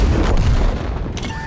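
Artillery fire in a tank video game, a loud booming shot with a dense, sustained blast filling the whole short moment, no voices over it.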